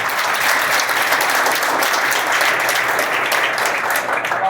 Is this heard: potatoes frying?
no